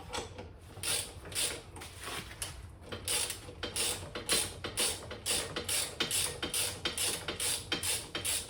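Close metallic ratcheting of a 13 mm wrench loosening a nut on the far side of a bicycle steering column, in quick repeated clicking bursts that come and go without pauses for speech.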